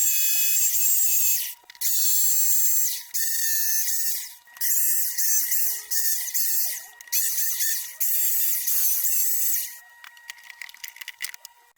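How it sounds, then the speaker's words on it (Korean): A drill bores speaker holes in a speaker enclosure, making loud high-pitched whining bursts that stop and start several times with short pauses, followed by faint scattered clicks. "스피커의 위치에 정확하게 구멍을 뚫어줍니다."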